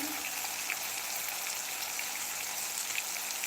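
Chopped tomatoes sizzling steadily in hot oil in a home kitchen, a continuous close, even crackle with no talking.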